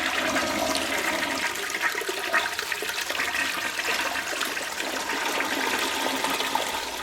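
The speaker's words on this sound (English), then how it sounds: "This is a toilet flushing." A toilet flushes in a steady, close rushing of water that runs for about seven seconds without a break.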